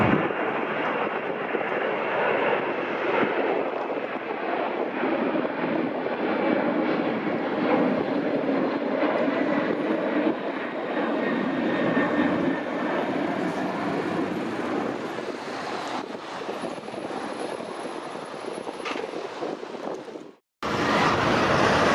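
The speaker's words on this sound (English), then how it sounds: "The first flight we see, flown by a Boeing 767-300ER, is United 956 to Geneva" A Boeing 767-300ER jet departs a Newark runway, a loud, steady roar of engine noise holding for about twenty seconds before cutting off abruptly.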